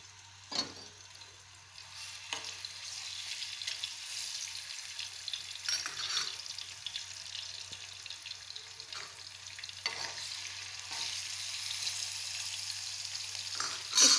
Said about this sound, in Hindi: ये देखें, तवे को हमने घी डाल के गरम कर लिया है। अब मैं इसमें ये लहसुन डालूँगी।